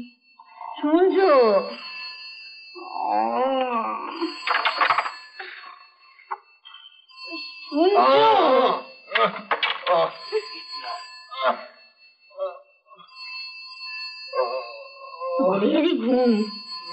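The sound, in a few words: telephone ringing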